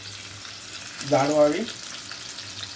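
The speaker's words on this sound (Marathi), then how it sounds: "फोडणीसाठी कांदा टाकला आहे" Chopped onion sizzles in hot oil as a tempering base for a Marathi ussal gravy, a steady frying hiss with a brief voice speaking over it midway.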